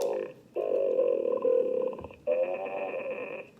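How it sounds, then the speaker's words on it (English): An evil-sounding First Order BB-8 remote-controlled droid toy from Disneyland's Galaxy's Edge gives off sustained, buzzy, growling electronic tones in two long phrases with a short break between them, close and fairly loud. "So this is the evil sounding BB-8, the first order BB-8."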